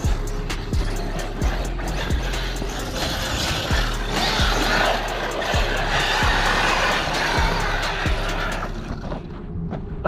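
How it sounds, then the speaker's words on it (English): Arrma Mojave EXB RC truck driving, its motor and drivetrain whirring steadily with rattling clicks and bumps over terrain, loud and close throughout with no talking. "That wasn't even full throttle."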